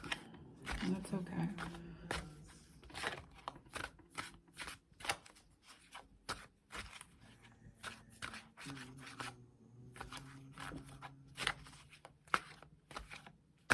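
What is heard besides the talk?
shuffling tarot cards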